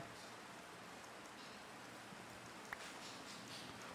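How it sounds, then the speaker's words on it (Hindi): Rain falling in the Minecraft video game, a soft continuous hiss of drops pattering evenly, quiet and unbroken, with one faint tick partway through and no speech. "अबे बारिश मेरा काम कर रही है नाइस"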